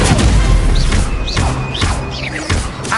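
Incendio fire spell cast in Hogwarts Legacy, a burst of loud whooshing flame blasts mixed with rapid game effects and booms, dense and close throughout.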